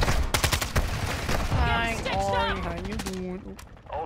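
Rapid bursts of gunfire crackle in Call of Duty DMZ on Ashika Island, loud and dense for about a second and a half before a voice starts talking.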